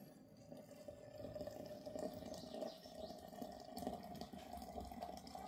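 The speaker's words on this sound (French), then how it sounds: "Mais cette fois-là, il faut remplir la théière" Boiling water pours steadily into a teapot for Moroccan mint tea, a faint, continuous rushing trickle with no talk.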